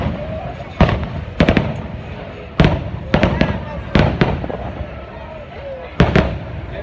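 Loud fireworks booming over Disneyland near Galaxy's Edge in irregular bursts, some with crackling tails, with people talking faintly in the background.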